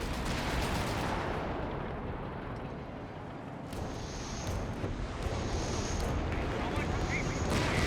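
Dive-bomb explosions and battlefield gunfire from a Company of Heroes 3 2v2 match form a dense, continuous roar of blasts, with sharper bursts after the midpoint.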